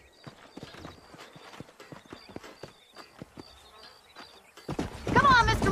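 Horses trot through the western game Red Dead Redemption on Xbox 360, a light steady clip-clop of hooves under faint ambient insect buzz, with a louder burst of noise at the end.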